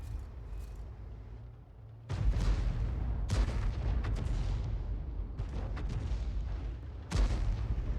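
Artillery from a tank combat game fires and lands hits with repeated loud booms, including a large blast near 2 seconds and more at about 3 and 7 seconds, over a steady rumbling game soundscape.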